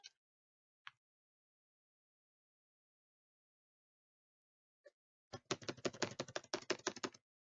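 A computer keyboard is hammered during a game: a few isolated clicks spread apart, then a loud, rapid flurry of keystrokes rattling close by for about two seconds.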